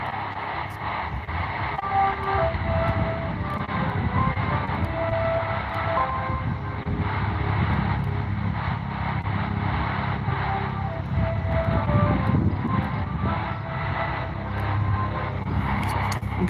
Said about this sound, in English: Helicopter is passing by, that's why.